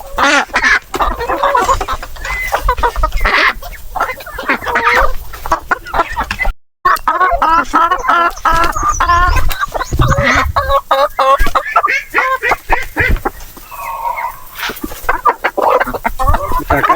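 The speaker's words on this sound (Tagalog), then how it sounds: "Kita nyo kung gaano to kalakas kumain ng papaya." Chickens feeding on papaya, with busy clucking and cackling from several birds close by, continuous and lively, with some duck-like calls mixed in.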